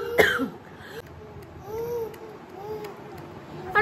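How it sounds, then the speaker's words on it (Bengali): A few short, sharp coughs, the first near the start and another at the very end, stand out against a quiet room, with soft, babbling, voice-like sounds in between. "অ্যালার্জির কাশি মনে হয়।"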